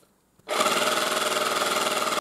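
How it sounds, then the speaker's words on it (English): A 12-volt car air compressor, rated to 250 psi and run from a charging car battery, kicks on abruptly and holds a loud, steady rapid buzzing drone with a fast mechanical pulse, running alone without talk. "Now let's try the compressor also."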